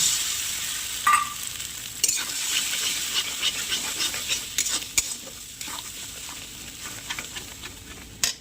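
Eggs frying with chopped onion and green chili in a hot wok, giving a steady close sizzle broken by scraping stirs and occasional clinks of the spatula against the pan.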